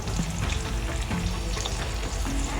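Potatoes fry in a pan with a dense, steady sizzle, close and continuous with no other sounds.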